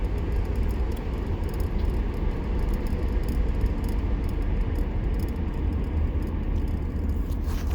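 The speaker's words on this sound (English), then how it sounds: "So basically I'm just driving through the little town where I live in Renfrew County." A 1979 Firebird drives through a small town in Renfrew County, heard from inside as a steady low engine drone and road rumble, constant throughout with no talk.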